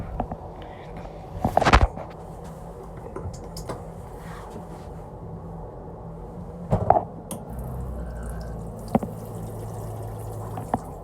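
A tap runs in the toilet of a nine-car Avanti West Coast class 390 Pendolino train, a faint trickle under steady train rumble, with a few sharp knocks and clunks along the way.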